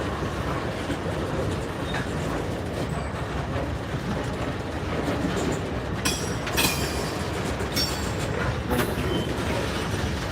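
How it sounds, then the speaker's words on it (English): Norfolk Southern locomotive and train rolling in on rails at a Chattanooga yard, a loud continuous broadband rumble with a few sharp high wheel squeals and clanks late on, no talk. "Looks like that could be locomotive 7712 possibly. Making its way here."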